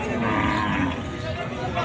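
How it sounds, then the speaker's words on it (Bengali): Bulls at a busy outdoor cattle market, lowing among a steady crowd murmur and nearby voices, the animal sounds fairly close and mixed into the general noise. "দর্শক, এখানে কয়েকটা ষাঁড় গরু আমরা দেখতে পারতাছি।"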